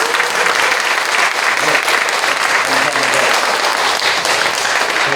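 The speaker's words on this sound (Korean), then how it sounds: "재미있으면 박수 한번 쳐주세요." Audience applause fills a church hall at a choir praise concert held as a worship service for patients, steady and dense throughout with no break.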